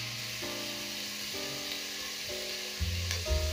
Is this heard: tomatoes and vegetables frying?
yes